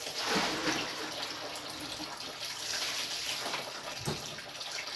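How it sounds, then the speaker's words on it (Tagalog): Steady rush of water pouring into a home bathroom, close and fairly quiet, with a few splashy surges along the way. "Pinuno ko ng tubig yung CR namin mga loves"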